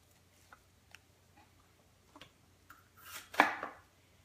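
A knife chops fresh jalapenos with seeds left in on a cutting board at home, giving sparse, soft taps. A louder, brisker burst of chopping comes near the end, with no talking.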